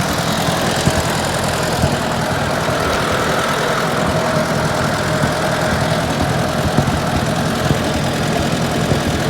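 A Ford 860 tractor engine pulls international plows through a field, its steady mid-pitched drone and rumble running continuously at close range with a faint knocking throb, and no talk over it.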